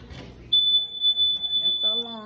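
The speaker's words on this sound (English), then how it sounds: "That's the alarm." An alarm in a hotel room sends out a steady, piercing high beep that starts abruptly and holds over loud background talk and voices.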